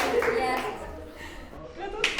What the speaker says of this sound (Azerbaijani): Alqışlayaq bir dənə Qarabağ komandasını uşaqlar